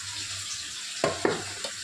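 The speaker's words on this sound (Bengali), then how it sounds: "আলু দিয়ে পেঁয়াজ দিয়ে ভাজা" Potatoes and onions sizzle steadily in a pan, broken by two sharp stirring scrapes in quick succession and a lighter clink after them.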